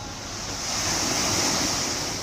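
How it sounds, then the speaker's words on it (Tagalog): Ocean surf crashes in a steady roar, swelling and holding loud with a windy hiss, no voices. "Ginatag-atang aning balod nga namusa."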